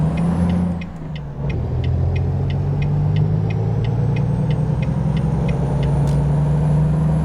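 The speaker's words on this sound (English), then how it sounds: "the engine definitely has a little bit more of a deep throat compared to what the Freightliner had" A Volvo semi truck's engine drones deep and steady in American Truck Simulator, dipping briefly, then climbing slowly in pitch as it pulls, with a faint repeating ticking running over the loud, continuous rumble.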